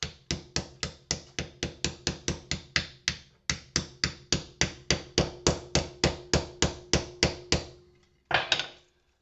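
A hammer tapping small scrap shards in a rapid, even series of about two dozen close, crisp strikes, with a short pause before a final pair of heavier knocks.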